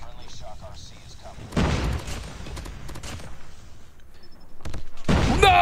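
Loud bursts of gunfire in a first-person shooter game, several broadband volleys and rapid shots spread through the clip, with a voice talking over the fighting.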